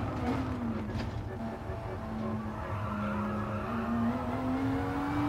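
A Renault RS01 race car in the Gran Turismo Sport driving game runs through a corner, its engine tone rising and falling while a steady tire squeal carries over it at moderate loudness.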